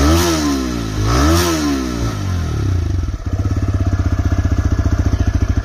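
A 2023 TVS Raider 125 motorcycle engine revs up twice close by, then settles into a loud, rapid, thumping idle from the exhaust.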